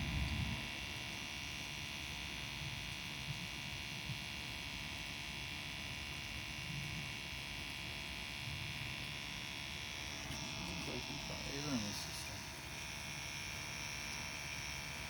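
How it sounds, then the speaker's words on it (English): A Testo combustion analyzer, used while checking a residential boiler, gives off a steady, even electrical hum that holds unchanged throughout, with a few faint clicks and rustles near the end. "Combustion analyzer by Testo."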